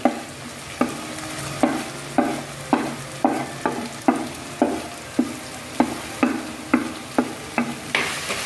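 Chili powder being stirred into a frying pan for a Kerala-style choora (tuna) curry: a spoon scrapes the pan in a steady rhythm of about fourteen sharp strokes over a soft sizzle, close and clear, with no talking.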